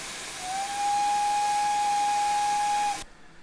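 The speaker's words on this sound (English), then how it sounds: "Primary whistle." The primary steam whistle of a GWR Dean Single 4-2-2 locomotive in Train Simulator Classic gives one long, loud, steady blast over a background hiss of steam, then cuts off sharply.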